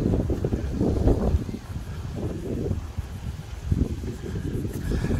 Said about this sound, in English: It's nice and breezy now